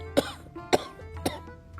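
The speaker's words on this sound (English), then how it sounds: "adding a cough at the end to prove the point" Three short, sharp coughs from a storyteller voicing the wolf in Little Red Riding Hood, spaced evenly about half a second apart, close and clear with quiet between them.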